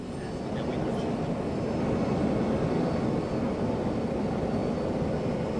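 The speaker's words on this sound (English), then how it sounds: "It is so loud out here because a jumbo jet just arrived on the tarmac." A jumbo jet on an airport tarmac gives off a loud, steady broadband engine roar that fills the whole stretch without a break.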